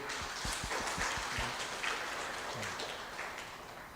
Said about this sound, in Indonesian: Tepuk tangan untuk Bunda Maria